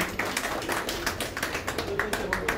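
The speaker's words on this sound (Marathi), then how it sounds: "विकास वायकर जोरदार टाळ्या वाजवायच्यासाठी" An audience at an awards ceremony claps in a brisk, moderately loud burst of scattered hand claps that keeps a steady pace, with no talk over it.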